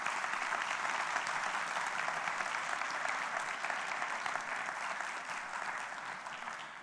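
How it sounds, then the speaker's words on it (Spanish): A church congregation applauds during a Christian sermon, a dense, steady wash of clapping from many hands that holds for several seconds and slowly tapers, with no talking over it. "Dale un aplauso a Dios por esos abuelos."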